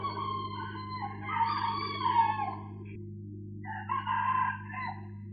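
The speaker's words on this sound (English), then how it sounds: "The roosters are crowing" Roosters crow twice in long rising-and-falling calls, the second after a short pause, moderately near over a low steady hum, with no talking.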